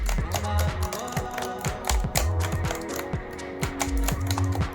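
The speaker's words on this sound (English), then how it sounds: "This is how keyboard sounds while typing." Rapid, continuous typing on the keyboard of an HP Victus 16 gaming laptop, close-up clattering keystrokes with loud, dense taps throughout.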